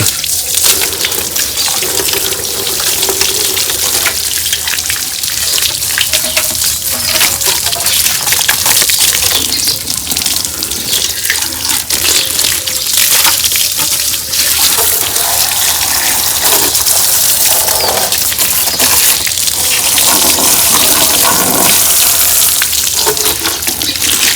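Water gushes steadily from a hose for the whole stretch, filling a container before washing a motorbike, a loud, constant splashing rush with no pauses.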